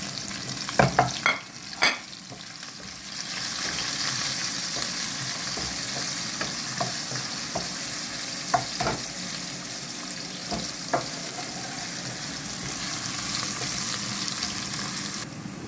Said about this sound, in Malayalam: ഇനി ഇഞ്ചിയാണ് ഇട്ട് കൊടുക്കുന്നത് അതും കൂടി ഇട്ട് കൊടുക്കാം അതിനുശേഷം വെളുത്തുള്ളി ഇതെല്ലാം കൂടി ഇട്ട് നമുക്കത് നല്ലതായിട്ടൊന്ന് വഴറ്റി കൊണ്ടുവരാം